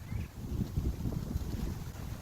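Steady low rumbling wind buffeting the microphone, continuous throughout with no voices.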